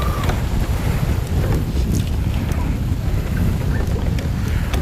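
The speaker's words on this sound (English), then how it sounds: "There's quite the wind blowing right now too." Strong wind buffets the microphone out on the water during a fishing trip, a constant low roaring rumble with small gusty flutters.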